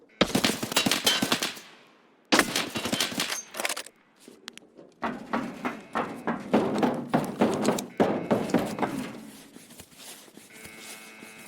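Loud bursts of gunfire in several separate volleys, each a quick string of sharp cracks, with short silent gaps between them.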